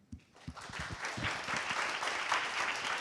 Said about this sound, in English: Let's have a hand of applause.